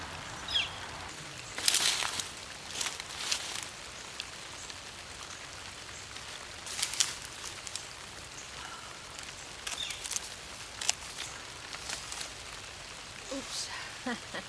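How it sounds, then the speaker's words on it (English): Rain patters onto a vegetable garden where a big squash grows, with scattered droplet hits and brief louder bursts over a soft steady wash, while a person talks intermittently nearby. "Oh dear, it's raining."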